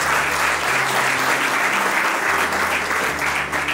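A crowd at a civil wedding ceremony claps loudly and steadily throughout, a dense continuous burst of applause.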